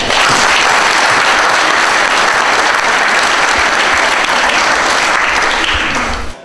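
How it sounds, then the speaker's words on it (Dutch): An audience at the 50th-anniversary celebration of a community hall claps for its board members: dense, steady applause that holds loud for about six seconds, then cuts off sharply, with no voices over it. "ook een applaus voor al die bestuursleden die dat al die jaren in de benen hebben gehouden"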